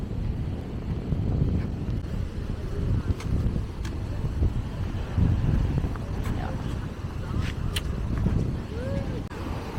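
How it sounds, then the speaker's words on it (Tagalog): Strong wind gusts across the microphone outdoors, a continuous low rumbling rush that swells and eases, with faint background sounds and no clear voices. "Lakas ng hangin, dinig diba?"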